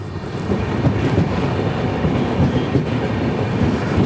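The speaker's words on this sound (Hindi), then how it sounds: "पर हमारी ट्रेन को स्लीप कराया जा रहा है लूप लाइन से।" Garib Rath Express train rolling along a station loop line, a steady close rumble with faint clickety-clack of wheels over rail joints, no voices.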